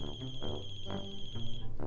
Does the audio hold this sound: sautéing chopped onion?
no